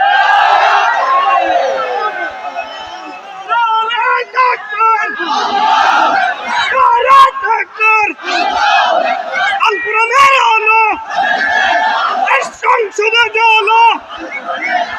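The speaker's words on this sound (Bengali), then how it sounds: "দুহাত তুলে একবার তাকবীর দিয়ে দেখাতে হবে" A large crowd at a religious-political speech gathering in Rangpur shouts takbir together, loud and close, in repeated bursts of massed voices with short pauses between the chants.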